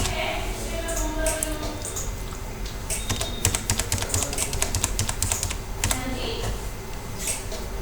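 Rapid typing on a computer keyboard with clicky key presses in quick bursts, including an Enter key stroke, recorded close up over a faint room background with soft talking at times.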